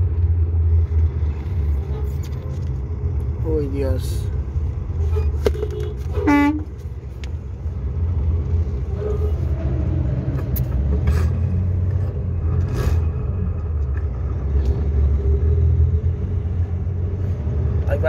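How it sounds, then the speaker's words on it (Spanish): Cars idle in a queue at a truck wash near the Lebrija bridge in Cesar, Colombia, a steady engine rumble with several short horn toots; a person speaks briefly. "Hay bastante carro haciendo fila."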